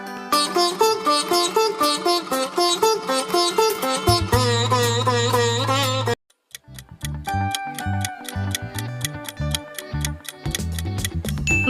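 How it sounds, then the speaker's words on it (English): Micromax's mobile phone ringtone plays as a lively synthesized melody of rapid bright notes over a low sustained tone. It falls silent briefly, then returns as a sparser rhythmic pattern of chimes and thumps, with no one speaking. "Micromax is the correct answer."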